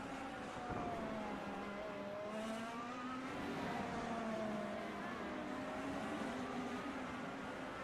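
IndyCar race cars on the Long Beach street circuit whine past at a distance, engine pitch sweeping up and down through gear changes beneath a steady crowd-like wash.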